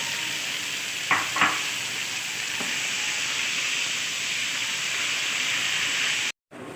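Boiled black chickpeas with onion sautéing in tomato paste, a steady close sizzle and hiss with a couple of brief stirring scrapes, cutting off abruptly near the end.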